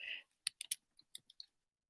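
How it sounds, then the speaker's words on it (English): Typing on a computer keyboard, a short run of about eight crisp, close key clicks in an uneven rhythm, preceded by a brief soft noise, then silence. "Or is that quite annoying if I'm typing it?"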